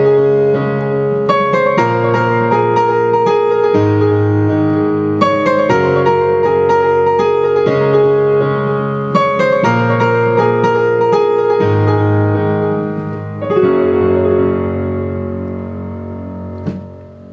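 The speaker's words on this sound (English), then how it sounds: "I'm going to change this over to our acoustic piano" Nord Stage 2 acoustic piano voice with a tempo-synced delay, playing sustained chords and melody continuously with repeating echoes trailing each note, loud and alone.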